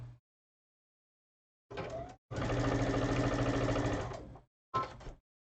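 A sewing machine runs in two short bursts and one long steady run of rapid stitching through cotton fabric, a close mechanical whir with a pause between runs and no talk.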